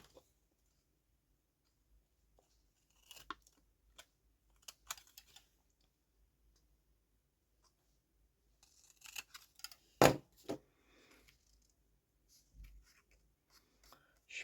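Scissors cut through card in sparse, quiet snips and crunches, with a few sharper clicks and a louder snap among otherwise near-silent stretches.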